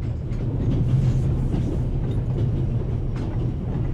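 A train rolls along its tracks in the video game Pathologic, a steady low rumble with soft rhythmic clatter, continuous and fairly loud, heard alone with no talk.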